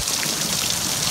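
Rain falling, a dense hiss of drops pattering on a surface, even and close throughout a brief stretch with no voices.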